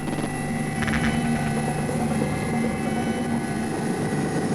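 Continuous droning roar of a civil security rescue helicopter, with a steady whine and thudding rotor underneath, loud and close with no talking.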